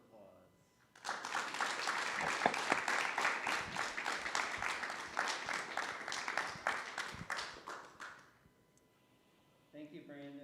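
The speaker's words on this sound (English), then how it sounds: "Let's give Brandon Shimoda and Janice Lee a round of applause." Audience applause following a graduate lecture, a dense sustained burst of clapping for about seven seconds that fades out, with a voice speaking briefly after it ends.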